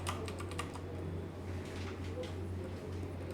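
Fast clicking keystrokes on a computer keyboard as C++ code is typed, a dense burst at first that then thins out, close up over a steady low electrical hum, with a voice murmuring faintly underneath.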